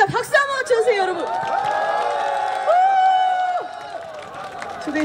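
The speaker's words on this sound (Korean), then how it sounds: "박수 한번 주세요 여러분." A festival audience at a Korean community celebration cheers and whoops with some clapping, rising and falling voices blending into a lively crowd roar.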